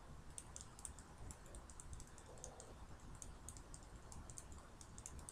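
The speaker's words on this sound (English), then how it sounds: "I hate all that typing." Rapid, steady keyboard typing, a quiet stream of light key clicks against a soft background hiss.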